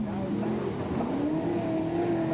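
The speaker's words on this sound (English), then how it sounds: "that's the roar of a Chevy Camaro you can hear coming from Pine's yellow pit crew car" A Chevrolet Camaro pit crew car at a 1995 Australian motor racing meeting, its engine giving a loud, sustained roar whose pitch climbs steadily, with commentary spoken over it.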